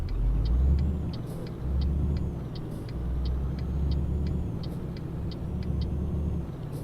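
Truck driving in the Euro Truck Simulator 2 video game, with a steady low engine rumble throughout and faint repeated high ticking, like an indicator, over it.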